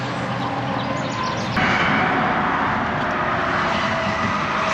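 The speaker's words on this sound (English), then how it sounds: "Excuse the interstate noise." Steady broadband roar of passing traffic on Interstate 44 beside an RV park, a continuous rushing wash of tires and engines heard from nearby with no talk.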